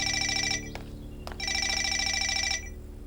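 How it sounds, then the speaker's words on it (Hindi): A telephone rings with a trilling electronic bell, two long bursts separated by a short pause, clear and close, with no talking. "फोन बज रहा है, जरा देखो कौन है।"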